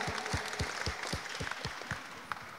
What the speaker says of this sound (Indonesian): Tepuk tangan dong untuk Nadia